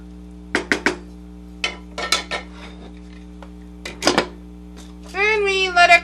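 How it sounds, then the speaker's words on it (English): Spoon clinking against a pot as vegetable soup with a bay leaf is stirred, several sharp metallic knocks and scrapes scattered over a steady low hum, with a voice briefly heard near the end. "We give it a stir."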